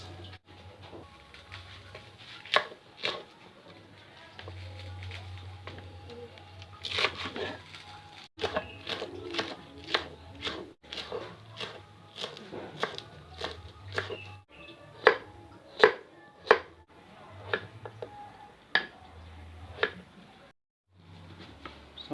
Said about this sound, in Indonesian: selanjutnya kita iris-iris